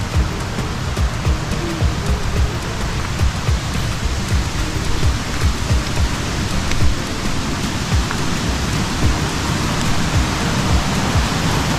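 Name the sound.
heavy rain in the hills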